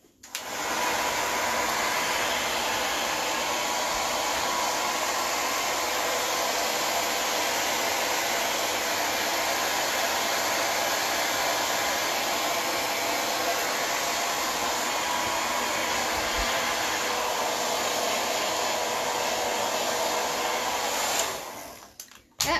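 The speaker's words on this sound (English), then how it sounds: "I'm gonna use my hair dryer for just a second." A handheld hair dryer blows steadily and loudly for about twenty seconds while a vintage Hollywood hairstyle is being set, a continuous broadband whoosh that cuts off abruptly at the end, with no talking.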